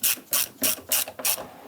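A socket ratchet tightens the side mirror nuts on a 1999-2004 Jeep Grand Cherokee in five quick, evenly spaced bursts of clicking, close and clear with no talk.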